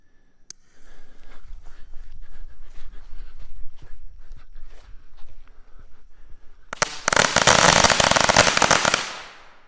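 Single firecrackers for the Fourth of July go off in a dense, loud crackling burst of rapid pops lasting a few seconds, preceded by quieter outdoor shuffling and footsteps.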